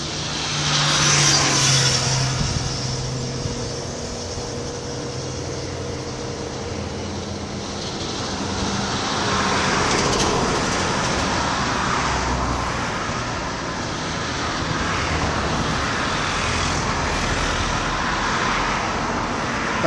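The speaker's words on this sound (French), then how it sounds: "Voilà le balai des camions qui vont, qui viennent, qui ramènent et qui reviennent à vide." Trucks coming and going around the east port of Réunion: a continuous outdoor rumble of heavy road traffic, swelling as vehicles pass nearby and receding, with no voices.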